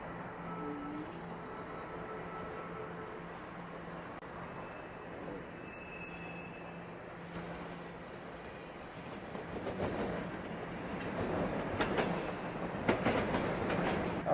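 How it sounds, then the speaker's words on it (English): Toronto TTC subway train passing beneath a bridge in Midtown at Yonge and Davisville, a rumbling roll of wheels with clicking rail joints and faint squeals, building louder toward the end. "riding above the TTC subway line"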